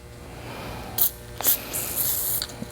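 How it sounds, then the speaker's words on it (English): Short hissing bursts of lubricant sprayed from an aerosol can onto a rag, three or four quick spurts with small mechanical clicks between them, close and fairly quiet. "I did that with just by spraying this on a rag."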